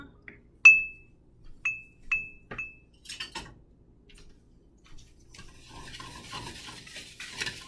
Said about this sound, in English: So I'm going to mix it up now.